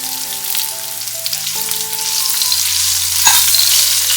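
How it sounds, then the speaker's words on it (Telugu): Okra pieces and crushed garlic cloves frying crisply in plenty of oil for an Andhra-style bhindi fry, a loud close continuous sizzle with stirring scrapes, while faint background music plays. "బెండకాయ ముక్కలు ఈ విధంగా క్రిస్పీగా వేగిన తర్వాత దీనిలో దంచిన వెల్లుల్లి రెమ్మలను ఒక 5 రెమ్మలను వేసుకోవాలి"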